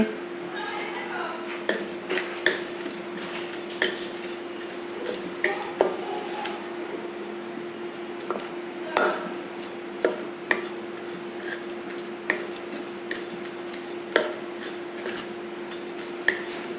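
Metal utensil scrapes and taps ring out at irregular intervals against a pan of frying chopped almonds, cashews and pistachios, over a faint steady hum and soft frying.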